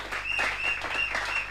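A church congregation claps and applauds to acclaim the Lord in a brief, steady burst of many hands at moderate volume, with a faint voice or tone underneath.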